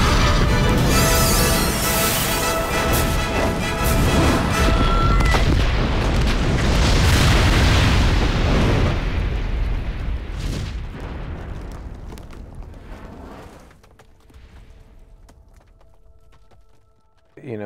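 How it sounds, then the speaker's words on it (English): A gas-filled insect nest blows apart in a film effects scene, a huge roaring blast that rumbles on for seconds before slowly dying away into near silence. "it begins to blow and then it explodes"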